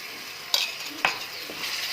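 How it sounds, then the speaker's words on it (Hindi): Ginger garlic paste fries with golden onions in a pan, a soft steady sizzle broken by two sharp scraping stirs of a utensil against the pan, with no talking. "और इसे भी हम थोड़ा सा भून लेंगे 3 से 4 मिनट"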